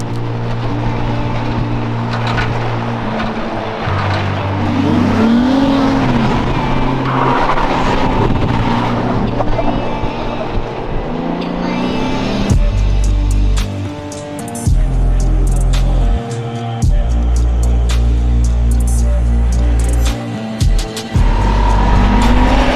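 A V8 Jeep cruising through open desert, its engine droning steadily and loud up close, with gear changes shifting the pitch and some road and wind rumble throughout.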